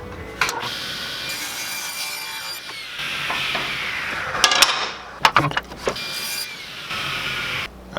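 A hand saw cuts through a small piece of wood for a spoon-jerkbait hybrid fishing lure, with steady close rasping strokes, a few sharp knocks and scrapes midway, then more sawing.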